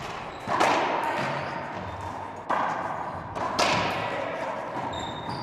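Racquetball ball cracking off walls and rackets during a junior boys doubles rally between USA and Mexico at a world championship, several sharp hits spaced through the clip over a reverberant court hum.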